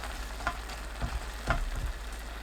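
A thick sauce of gochujang with minced garlic and soy sauce is stirred in a pot, quiet, wet scraping strokes that come every half second or so, close but faint, over a low steady background hum, with no talking.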